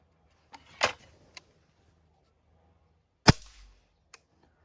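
A Chaika 14 air rifle fires two shots with Shershen 0.75 pellets: two sharp, loud cracks about two and a half seconds apart, each followed by a short rattle, with faint mechanical clicks between them.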